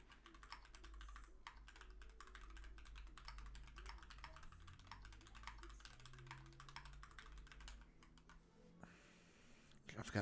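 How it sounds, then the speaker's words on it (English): Steady, rapid typing on a new computer keyboard, close and fairly loud, with dense irregular key clicks running for most of the stretch before easing off near the end. "got a new keyboard that is not helping."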